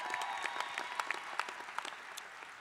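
A commencement audience applauds master's students at a business school graduation, a dense, fairly distant round of clapping that continues throughout without talk.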